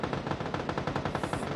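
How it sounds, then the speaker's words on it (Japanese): Rapid bursts of automatic gunfire in PUBG crackle steadily and close, a continuous rattling volley with no voices. "さあ、発砲を受けます、ハングリー選手。"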